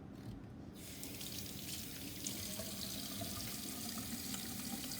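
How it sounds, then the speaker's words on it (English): Tap water runs steadily into a sink while hands are washed beneath the stream, a continuous close splashing hiss with small irregular drips and splatters throughout. "The very first thing I'm going to do before I start with this is wash my hands."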